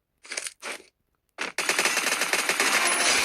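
Gunfire in the mobile battle game Free Fire: two short bursts, a brief single crack, then a loud sustained rapid automatic volley, all close and dominant with no voices over it.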